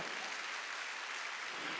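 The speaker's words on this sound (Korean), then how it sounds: "박수 치려면 치라고요" Brief, soft, even clapping from a church congregation at a Wednesday service, a faint continuous patter of hands heard at a distance.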